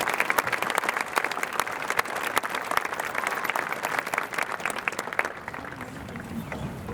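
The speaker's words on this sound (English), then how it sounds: "Let's give all of these individuals a round of applause." A crowd at a high school graduation ceremony gives a sustained round of applause, dense clapping at moderate distance that thins slightly toward the end.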